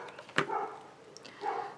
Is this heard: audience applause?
no